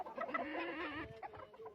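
Clucking from a chicken, a run of busy, close, moderately loud clucks and calls filling the short stretch, with no talk.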